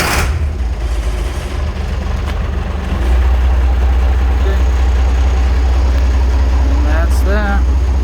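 An old tractor engine runs steadily at idle, a loud, low continuous rumble that deepens and settles after a few seconds, with a brief squeal near the end.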